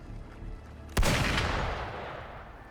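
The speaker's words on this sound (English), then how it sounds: "gunfire!" A single sharp gunshot in the Wuthering Waves video game cracks out loudly near the start and rings off in a long decaying boom over low ambient rumble.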